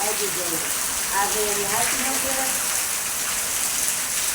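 Steady, dense rain hisses continuously, with a person's voice talking faintly beneath the downpour.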